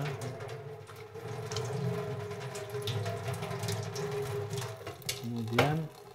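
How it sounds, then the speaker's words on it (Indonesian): Violin bow hair is rinsed under a small water tap, a steady gentle stream running and splashing throughout, close by, with a brief rising squeak near the end. "Pertama kali kita basuh hair bow ini dengan keran yang kecil, dibasahin semua ya."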